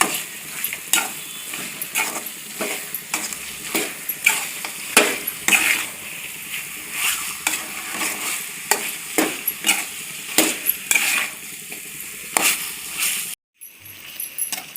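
Chicken frying in oil with onion and tomato for a pepper chicken curry, a steady crackling sizzle broken by regular scraping stirs of a spatula in the pan, close and continuous until a brief drop near the end.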